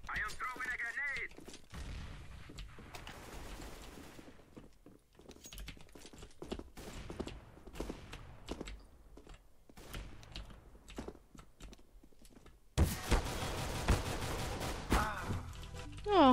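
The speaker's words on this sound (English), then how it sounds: "Throwing fire. Throwing smoke. I am throwing a grenade." Video game combat with gunfire and explosive blasts, including grenade detonations, sounding as dense bursts and cracks throughout, with a loud sustained burst near the end.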